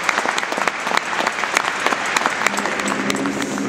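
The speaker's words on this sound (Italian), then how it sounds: "che accogliamo con un applauso" Audience applause welcoming the conductor Giuseppe Polese at a Christmas concert in Torre del Greco: dense, steady clapping from a crowd filling the whole stretch, fairly loud and close.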